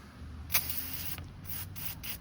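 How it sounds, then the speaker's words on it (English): A steady hissing spray of brake cleaner aerosol runs throughout, close and moderately loud, with a few brief sharper bursts breaking through the continuous hiss, used while changing oil on a Chrysler 2.4 DOHC four-cylinder engine. "And just spray the whole thing down."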